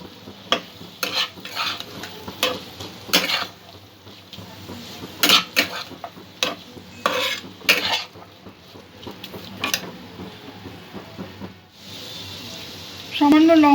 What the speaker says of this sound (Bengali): মশলাগুলো সব মিক্স করে নেব।